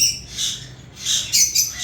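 Pet birds at a bird market, conures among them, give loud, close squawks and chirps in a few bursts with no talk.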